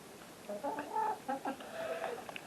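Hens clucking in a backyard coop on a winter day, several birds making soft, irregular clucks and short calls at close range, with no talking over them.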